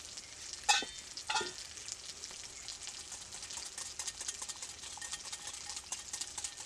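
Spice masala for doi pabda fish sautés in a pan with a soft, continuous sizzle; two sharp metal clanks of a utensil stand out near the start.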